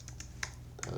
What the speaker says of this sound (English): hopefully I typed everything in correctly